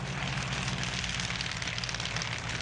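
Steady, loud drone of a Chinese-built Nanchang CJ-6 trainer aircraft with its 285 horsepower radial engine running, a continuous throbbing propeller roar with no voices.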